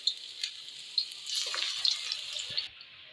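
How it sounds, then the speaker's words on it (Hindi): Small pakoras of aloo methi batter dropped into hot oil, giving a steady bright sizzle and crackle that swells midway and holds, then cuts off abruptly near the end; no talking. "अब मैं थोड़ा सा इस तरह बैटर उठाऊंगी, तेल के अंदर डाल दूंगी।"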